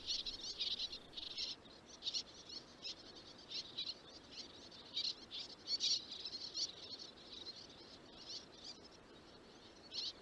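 A seabird chick calls repeatedly in quick, high-pitched bursts of chirps, fairly faint and alone against quiet surroundings.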